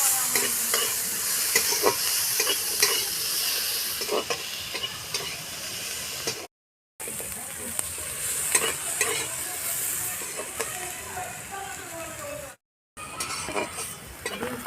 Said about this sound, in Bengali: ক্যাপসিকামটা ভাজা হয়ে গেছে